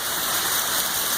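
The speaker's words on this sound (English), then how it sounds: "the chain guides the water down" Rainwater pours steadily down a rain chain downspout outdoors during rainfall, a continuous close splashing hiss of running water with no pauses and no voices.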